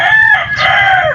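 A young rooster stag with a straight comb crows once, loud and close, a full rising-and-falling call with no talk over it.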